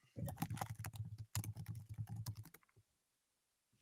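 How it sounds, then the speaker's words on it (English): Fast typing on a computer keyboard, a close rapid run of crisp key clicks in two bursts with a brief pause, fading into quiet near the end, no talk. "I love hearing the typing."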